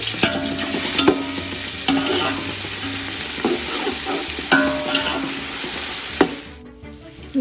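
Garlic sizzles steadily in hot ghee, with scattered sharp clinks of a spoon stirring the pan, close and fairly loud, then the sizzle quiets.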